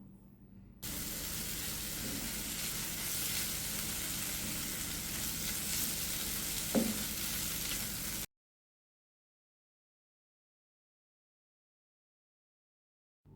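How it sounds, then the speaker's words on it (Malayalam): Masala in a pan loosened with hot water for chicken leg puffs, a dense steady sizzle and hiss for about seven seconds with one small clink, then abrupt silence. "ഇനി ഇതിലേക്ക് കുറച്ച് ചൂടുവെള്ളവും കൂടി ഒഴിച്ച് ഈ മസാലയൊന്ന് ലൂസാക്കി എടുക്കാം."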